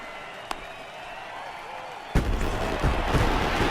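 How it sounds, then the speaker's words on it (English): A baseball video game's home crowd erupts midway after a sharp thud, a broad roaring cheer swelling and holding at moderate loudness, with a few isolated knocks beforehand. "the home crowd is loving it"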